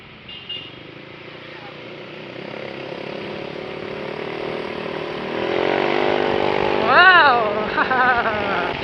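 A scooter motorcycle engine hums steadily while riding, its pitch rising and revving up near the end as speed builds, with wind rush around it.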